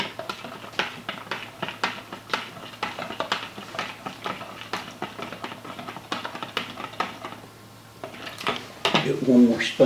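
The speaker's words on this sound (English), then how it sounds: "I'm gonna give both of these a real good stir." Metal spoons stirring jello mixtures in cups, producing a steady series of light clinks and taps against the containers, close and fairly soft throughout, ending with a brief louder scrape.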